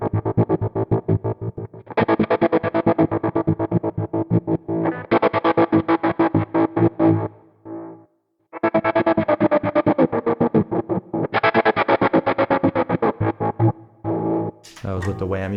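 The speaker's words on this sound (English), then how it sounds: "here's with the tube screamer on, maybe a vibe on there, Aquapus, even compressor, and you get this huge sound." Electric guitar lead tone from a Line 6 Helix preset with tube screamer overdrive, vibe and compressor, a loud distorted phrase of quick picked notes in bursts with brief gaps and a swelling effected tail.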